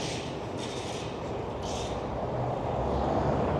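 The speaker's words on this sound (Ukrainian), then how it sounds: "Трамвай їде, нічого не чутно." On an Odesa street, a tram rolls past as a low rumbling rail noise that builds steadily over a few seconds, with faint hissy traffic bursts around it and no talk.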